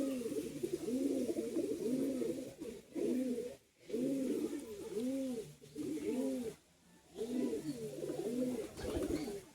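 Pigeons, a high-flying breed, coo in repeated rounded phrases broken by brief pauses, close and clear with no talking.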